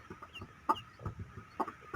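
Hens clucking in short bursts, a few nearby clucks spaced irregularly over soft background farmyard noise, with ducklings raised by a hen.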